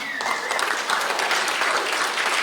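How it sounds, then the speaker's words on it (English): Delegates at an opening plenary of a political conference, including the Communist Party of Britain standing, give sustained, dense applause that stays steady and fairly loud throughout. "That's all the applause y'all can do?"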